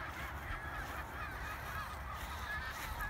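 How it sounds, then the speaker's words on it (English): Several gulls call repeatedly at a middle distance during an outdoor walk, their harsh honking cries rising over a steady rumble of wind and background noise, with no talking. "Oh, loads of seagulls about."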